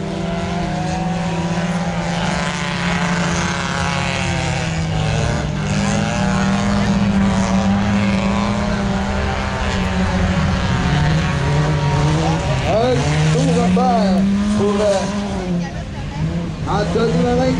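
Modified stock cars and 350-class cars race on a hard, fast dirt oval at a bazou event in St-Ferdinand, with a loud, continuous roar of several engines rising and falling as they pass, and an announcer talking over it.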